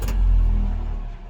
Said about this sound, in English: Blower motor sounds a little better now. It's not shaking the dash apart.